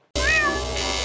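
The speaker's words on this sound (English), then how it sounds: "I had a neighbor who had this Siamese cat who was like," Siamese cat meowing, a single drawn-out, wavering yowl with a rising and falling pitch, loud and close, heard alone after a brief silent start.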